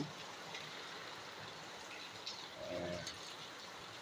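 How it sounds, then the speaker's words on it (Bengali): Rain without hail falls steadily over Dhaka in May, a faint continuous hiss of drops on surfaces with no talk. "কোনো শিলা বৃষ্টি নাই শুধু বৃষ্টি"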